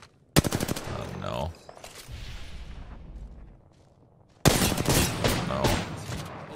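Rapid machine gun fire in an Apex Legends firefight: a loud, close burst of fast repeated shots, a fading tail of echoing noise, then another sustained, dense burst of automatic fire.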